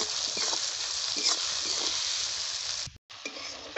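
Tomatoes sautéing with salt in a hot pan: a loud, bright, continuous hissing sizzle with faint stirring scrapes, briefly cut off near the end before resuming.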